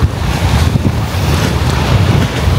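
Rough sea waves churn and crash under heavy wind buffeting the microphone, a continuous low roaring wash with no speech.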